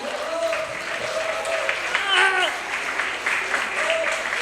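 Audience applause at a Nerd Nite talk in Santiago, clapping from a crowd with voices and a brief whistle or cheer rising in the middle, speech-like sounds mixed in.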